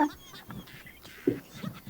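Chickens clucking nearby in short, scattered bursts, with a few louder squawks rising over a quiet outdoor background.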